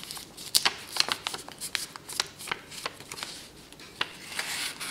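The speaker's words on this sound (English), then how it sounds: "I'm going to fold this up and tuck it in." Paper folded and tucked by hand to make a corner bookmark, a run of close crisp rustles, creases and light slides in an uneven rhythm, with no talking.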